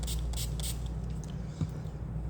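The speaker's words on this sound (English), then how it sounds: "I'm going to spray some water close by" Three quick hissing spritzes of water from a spray bottle, close and fairly soft, over a low steady background hum.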